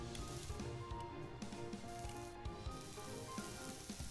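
Bread sizzling on a hot clothes iron in the game I Am Bread, a steady crackling fry that runs unbroken for the whole stretch, with small pops and ticks scattered through it and no voices.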